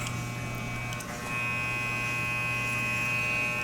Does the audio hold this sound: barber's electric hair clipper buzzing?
yes